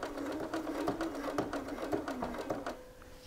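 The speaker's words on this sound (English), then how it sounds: "Get that tucked under and then stitch to the corner." A sewing machine stitches a shirt pocket in a quiet room, a soft rapid run of needle strokes lasting a few seconds before stopping.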